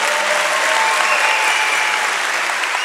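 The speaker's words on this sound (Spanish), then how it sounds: "Aplausos para ella." Theatre audience at a live comedy show in Lota applauding an audience member, a dense, steady wash of many hands clapping close and loud, without a break.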